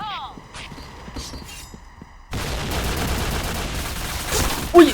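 Gunfire in the online shooter Point Blank on the Midtown map: after a short stretch of voices and game sounds, a sudden, loud burst of continuous rapid fire starts and runs to the end, with one sharper crack at the close.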